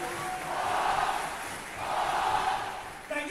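Audience at a school Veterans Day assembly cheering and applauding for the Black Knights after a national trophy is presented, with two swelling waves of crowd shouting and clapping at moderate distance.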